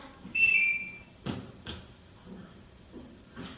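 A short bright whistle signal rings out near the start, followed by softer thumps and faint movement sounds in a quiet room.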